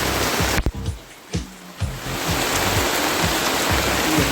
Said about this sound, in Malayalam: മഴയ്ക്കൊരു കുറവുമില്ല.